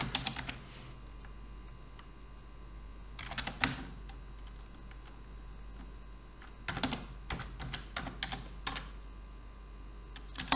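Computer keyboard keys clatter in short bursts of quick taps, separated by quiet pauses, close and fairly soft over a low steady hum, while a name for a Google spreadsheet is typed.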